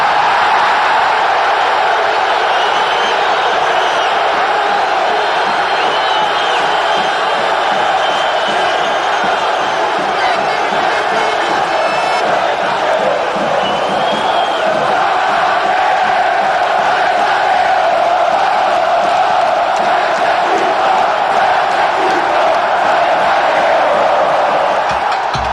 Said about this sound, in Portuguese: Apaixonados de todas as idades, cantam e vibram com o time em campo